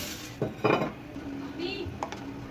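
A lid is set back on a cooking pot of beef parda pulao. It makes a couple of short, close metallic clanks and rattles over low kitchen background noise.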